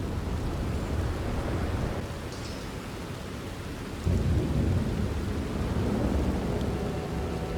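A thunderstorm pours steady heavy rain while thunder rolls and swells, with a louder rumbling burst midway that lingers to the end, no voices present.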